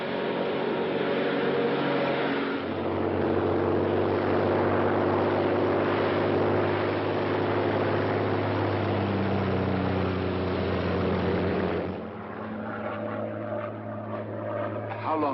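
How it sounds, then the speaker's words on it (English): Royal Air Force propeller plane in flight in a 1943 film, a loud steady droning engine hum with low throbbing tones that eases near the end as voices speak over it. "a Royal Air Force plane is waiting for us at a secret landing place"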